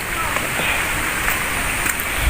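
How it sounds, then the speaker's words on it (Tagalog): Heavy rain from Typhoon Kristine falls steadily on a farm, a dense, constant hiss of close rainfall with faint water movement beneath it. "lumakas na yung ulan"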